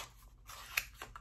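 Scissors snip through blind box packaging in a few quick, faint crunchy cuts up close, with a slightly sharper snip near the middle and no talking.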